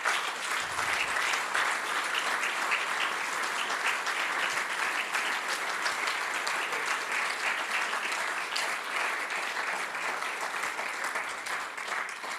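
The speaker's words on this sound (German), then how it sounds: "Ich denke, die haben sich einen Applaus verdient." A large audience at a provincial government event breaks into long, dense applause that holds at a steady level, loud and continuous.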